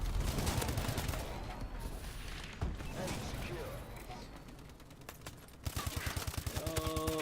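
A silenced weapon fires in the Call of Duty Advanced Warfare video game. Sharp, rapid bursts of shots crackle through the busy game soundscape, loudest as a fast volley near the end.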